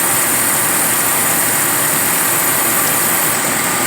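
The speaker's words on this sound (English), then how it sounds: "And your compressor, obviously, if it's not kicking on and off like this, see how it's on right now" Car engine idling with the air conditioning compressor engaged, a steady, loud mechanical hum and whir that holds constant throughout with no pauses or talk.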